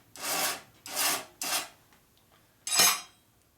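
Four rasping strokes of a hand file on a 1961 Harley FL 74ci Panhead rocker arm oil hole, each a bright scraping sweep, three in quick succession, then a pause before the last.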